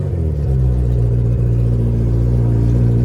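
A mini truck with a swapped-in Hayabusa motorcycle engine pulls hard in first gear on gravel, its loud, steady engine roar and deep rumble holding close and strong throughout.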